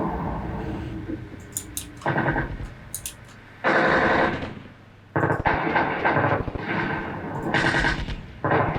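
Gunfire and explosions from the tactical combat video game Armored Brigade 2, with several loud bursts of shooting and blasts spaced through the clip over a steady low rumble of battlefield noise.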